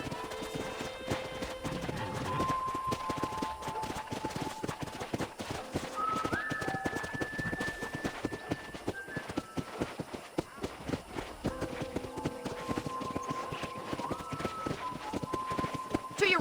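Horse hooves clip-clop in a steady trotting rhythm while riding around a ranch in the Red Dead Redemption video game, with music and intermittent speech over the continuous hoofbeats.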